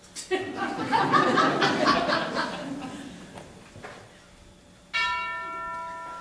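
A clock bell rings out the quarter hour, a clear ringing tone that lingers and fades, with chuckling laughter over the opening seconds and a second bright bell strike near the end.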